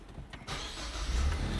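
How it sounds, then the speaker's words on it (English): A car engine cranks and catches, the starter whir giving way to a rising low rumble that settles into a steady, fairly close running note with no talk over it. "So what we'll do, we'll just get the car, get it started here."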